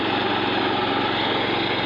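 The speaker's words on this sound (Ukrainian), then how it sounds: "щоб показати, як працює косарка" A tractor-driven rotary mower runs continuously while cutting through bushes, a loud, steady engine drone with dense broadband whirring and no pauses.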